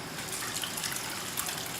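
Liquid from cooked peppers and onions poured through a small strainer while making carnitas tacos on a Yoder smoker, a steady close splashing trickle that runs without a break.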